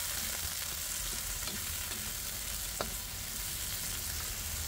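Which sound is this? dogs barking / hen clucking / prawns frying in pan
prawns frying in pan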